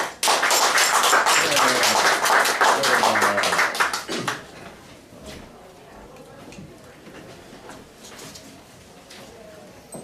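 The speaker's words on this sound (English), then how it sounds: "Applause for Bob!" Audience applause greets a speaker at a humorous speech club meeting, loud dense clapping for about four seconds that then fades into quieter room sounds and murmur.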